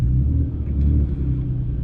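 A BMW E36 engine with a faulty idle control valve running at idle, a close, loud low rumble with a steady drone and slight wavering throughout, no voices.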